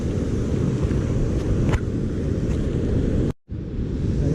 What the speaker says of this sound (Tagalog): Malaki pa yung alon.